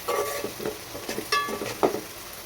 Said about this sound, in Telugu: కొంచెం అల్లం వెల్లుల్లి పేస్ట్ వేసుకోవాలి